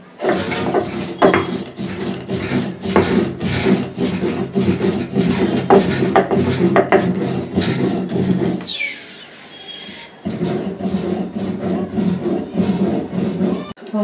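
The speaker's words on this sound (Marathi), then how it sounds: "आता मसाला वाटून घेत आहे आई." Spice masala is ground by hand on a traditional stone slab for a Khandeshi coriander and mixed-dal dish. Close, loud rhythmic scraping strokes repeat steadily, with a brief pause before the grinding resumes.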